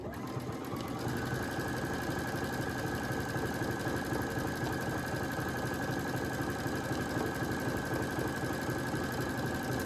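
A Brother Essence VM5200 sewing machine runs a decorative fancy stitch, a continuous fast mechanical whirring and rapid needle rattle that holds steady and close for the whole stretch, with no talking.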